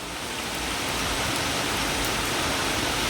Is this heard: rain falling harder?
yes